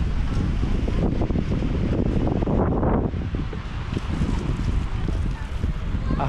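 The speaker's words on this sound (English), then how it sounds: "because it's pretty windy here." Strong wind on a beach in Beldibi, Turkey, buffets the microphone in loud, continuous gusts, with a brief lull partway through before the roaring picks back up.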